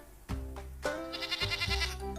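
Sheep and goats bleat while grazing together in a village flock, several wavering calls following one another in a quiet setting with no talk.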